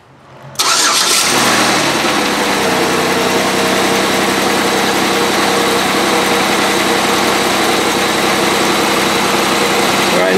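Car engine cranking and catching after about half a second, then settling into a steady, loud idle that runs unchanged to the end, with no talking.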